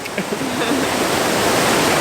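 Steady, rushing roar of a waterfall at Plitvice Lakes National Park in Croatia, a broad continuous wash of falling water, loud and close, with a faint voice briefly audible early on.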